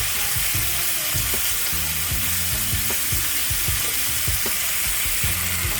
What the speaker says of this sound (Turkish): Dönerlerimizi arada karıştırarak her yeri eşit pişecek şekilde pişirmeye devam ediyoruz